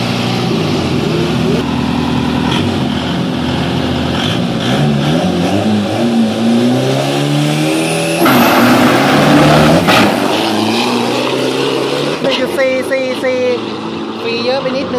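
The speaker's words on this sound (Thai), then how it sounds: "เรือขุด" A dredging boat engine runs steadily and loudly throughout, with the pitch rising and the roar swelling midway, then settling again, while voices talk over it.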